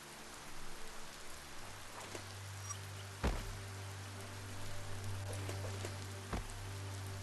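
Rain falls steadily in the video game Biomutant on PS5, a constant close patter with a low hum beneath and two sharp thuds, no one speaking.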